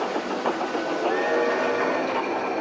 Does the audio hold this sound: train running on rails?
yes